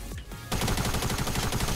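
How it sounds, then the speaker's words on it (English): Shotgun fire in the video game Fortnite: after a short quiet moment, a loud, dense stretch of rapid gunfire carries on to the end, with no talking. "I just killed him with a blue shotgun"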